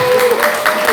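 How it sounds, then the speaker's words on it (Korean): Applause from a small crowd of soldiers at a military battalion church service, steady clapping filling the whole second with a voice talking over it. "박수!"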